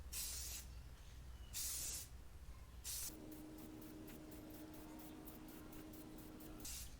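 Short hissing bursts of spray coat a restored 2006 Subaru WRX headlight, three separate passes followed by a quicker train of rapid pulses, fairly faint and close with no talk.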